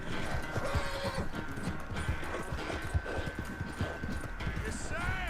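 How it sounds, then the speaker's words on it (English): A horse gallops in Red Dead Redemption 2, its rapid clip-clop hoofbeats running steadily under game music and ambience, with a voice speaking over it. "Vamos, cavalo, vamos."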